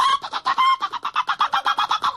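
A single chicken clucks in rapid, evenly spaced bursts, about a dozen loud, close calls in quick succession with nothing else behind them.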